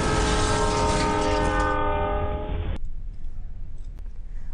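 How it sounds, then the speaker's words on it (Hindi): A train approaching at full speed sounds a loud, sustained horn that cuts off abruptly, leaving a rumbling rush of rail noise at a crossing where it strikes a trailer; close and loud, with no voices. "उसी वक्त पूरी रफ्तार से आने वाली ट्रेन ट्रेलर से टकरा गई।"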